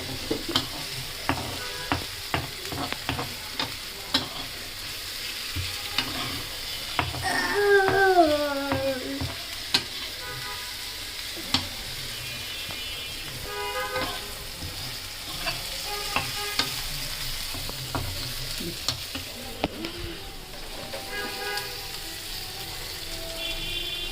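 Onions and chilies frying in oil, a continuous low sizzle with frequent sharp stirring scrapes and clinks over about twenty-four seconds, a brief squeaky rattle in the middle, close and without talk.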